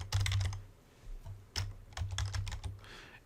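Quick bursts of clicky computer keyboard typing, close and fairly quiet, with short pauses between clusters of keystrokes.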